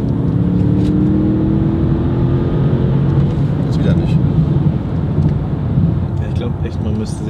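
A Mercedes S63 AMG in Sport Plus mode accelerates with a loud, sustained engine roar that holds steady throughout, heard from inside the car.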